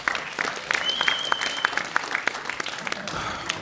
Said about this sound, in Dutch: Geef de heer een applaus, hoor.